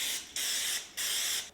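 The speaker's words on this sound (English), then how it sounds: "I'm going to spray it with some cooking spray." Cooking spray from a can hissing onto a muffin tray in two or three short bursts, close and distinct, with no talking.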